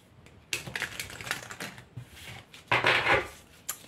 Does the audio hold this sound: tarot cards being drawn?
yes